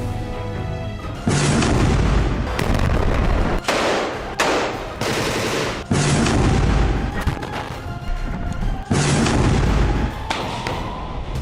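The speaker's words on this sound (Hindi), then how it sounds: "अगर सिनवार जिंदा है तो इजरायल के ऐसे धमाके उसे डरा पाएंगे।" Heavy explosions from the Israel-Hamas war boom one after another, loud and close, each blast followed by a rumbling tail before the next hits.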